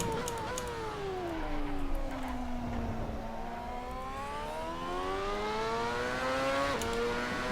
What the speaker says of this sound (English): Really nice having the Formula vehicles side by side.